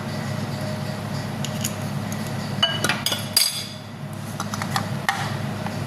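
Lemon cake batter being beaten by hand in a bowl: light clinks and taps of the utensil against the dish, scattered irregularly, loudest in a short cluster midway, over a faint steady background hum.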